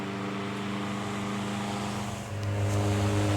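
A 1925 General Electric AOU electric fan with brass blades and a cast iron base runs on high, a steady close motor hum with a smooth airy whoosh that swells slightly louder as it picks up speed.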